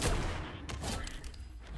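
Gunfire in Fortnite: a dense burst of rapid game shots crackling close and loud for the whole stretch, with sharper single reports standing out partway through.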